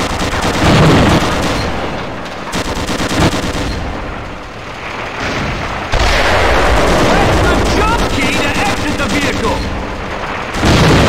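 Tank-mounted machine guns hammering inside an asteroid in Gunman Chronicles, loud rapid bursts with heavy booms, broken by short pauses, then resuming.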